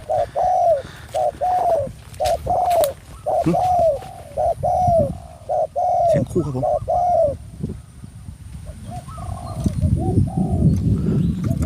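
A dove coos repeatedly in quick rhythmic phrases, close and clear, with rustling and background noise swelling near the end.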